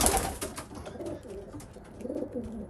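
Racing pigeons in a loft coo in soft, repeated throaty calls while a young cock chases and fights a two-year-old male, with rustling and low background noise throughout.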